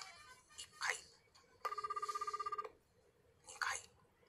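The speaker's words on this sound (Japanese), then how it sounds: "まずは電話をかけます。" A telephone ring tone for an outgoing call placed live on a Japanese radio call-in show, heard as a steady, buzzy ringback tone lasting about a second, with brief voices before and after it.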